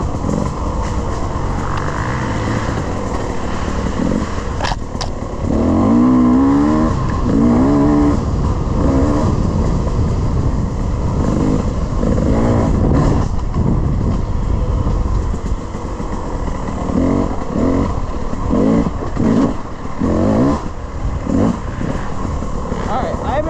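An offroad dirt bike runs laps, its engine droning and revving up and down in uneven bursts, with a voice speaking over the machine noise.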